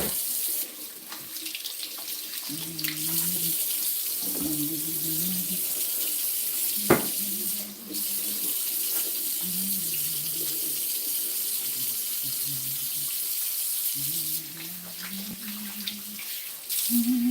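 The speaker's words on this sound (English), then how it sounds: "I'm going to just wash my hands" Tap water runs steadily into a sink during handwashing, a continuous close splashing stream with brief shifts as hands move under the flow, and occasional soft knocks.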